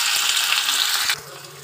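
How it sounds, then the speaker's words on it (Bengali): Paneer frying in a wok, a close steady sizzle with faint stirring ticks that drops suddenly to a softer hiss near the end, with no talking. "সব পনিরগুলো আগে ভেজে নিই।"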